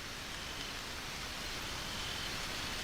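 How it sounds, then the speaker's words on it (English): Light rain falls outdoors as a steady, faint hiss of drops with no distinct hits, an even wash of noise from start to end with no talking. "the rain is starting to come down a little bit harder"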